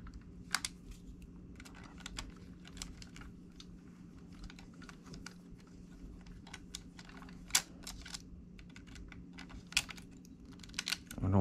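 Rapid irregular clicking and ratcheting as screws are tightened on an airsoft gun gearbox, a close, dry series of small clicks and taps running throughout with no talk.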